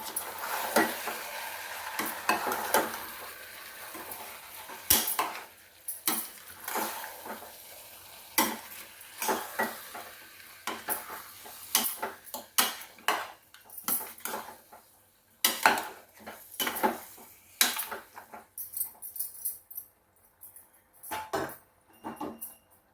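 Mint and fresh coriander are stirred into a vegetable biryani in a pot, giving an irregular series of close scraping and clattering stir strokes over a faint sizzle, with no talking.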